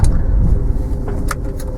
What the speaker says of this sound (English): the road noise, the wind noise, quite a fair bit in this car.